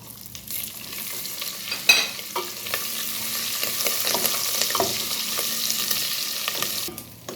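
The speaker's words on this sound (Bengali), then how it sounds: "একটুখানি এটা ফ্র্যাকল করবে মানে জিরেটা তার মধ্যে আমি দিয়ে দেবো এই কাঁচা লঙ্কাগুলো" Cumin seeds and green chilies crackle in hot oil with cinnamon and black cardamom, for jeera rice. The sizzle is close and steady, with sharp pops and a few spoon clinks and stirring scrapes.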